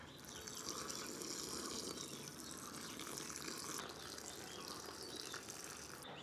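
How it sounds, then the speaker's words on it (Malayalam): Steady gushing water pours continuously for several seconds into a potted bush pepper cutting, a full, splashing flow without pause and no voices. "നമുക്കിനി ഇതിന് കുറച്ച് വെള്ളം ഒഴിച്ചു കൊടുക്കാം"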